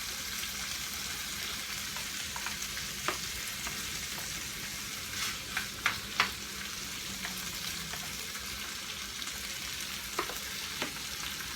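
Slices of canned Spam fry in a pan at breakfast with a steady close sizzle, with a few sharper pops and spatters scattered through the clip.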